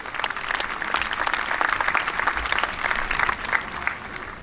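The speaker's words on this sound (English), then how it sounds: "Round of applause once again, Mike and Jimmy." An audience claps at a heavyweight horse pull in Hamburg, New York, a dense, steady round of applause close to the microphone that holds for the whole stretch without talking.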